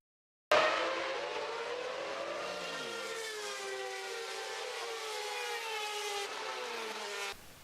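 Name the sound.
Formula One race car passing by, Doppler effect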